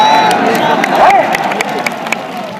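A crowd at a political rally in Bareilly cheers and claps in a steady, dense wash, with voices shouting over the noise throughout.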